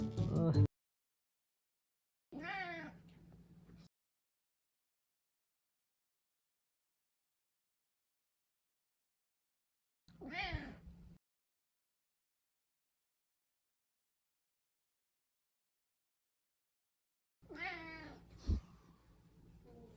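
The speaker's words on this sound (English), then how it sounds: "My Bengal cat is very vocal, and while I'm petting him, he's wailing and crying out" A vocal Bengal cat lets out a handful of loud, drawn-out meows and wails, spaced apart by long silences, heard up close with no talking.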